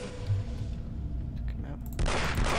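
A sentry gun firing in Aliens vs Predator 2, a sustained loud burst of automatic fire that kicks in sharply near the end over a dense rumbling game background.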